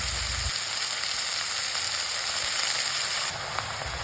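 Cut radish hits hot oil with black mustard seeds and dried red chillies, giving a loud, steady sizzle that runs unbroken and close, easing slightly near the end.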